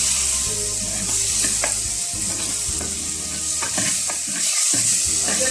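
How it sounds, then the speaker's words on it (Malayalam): Tomatoes and green chilies for a Kerala-style coconut fish curry are stirred in a frying pan, giving a loud, close, steady sizzle with repeated scraping stir strokes throughout. "തക്കാളി ഒന്ന് വെന്ത് വരുന്നവരെ നമുക്കൊന്ന് ഇങ്ങനെ ഇളക്കി കൊടുക്കാം."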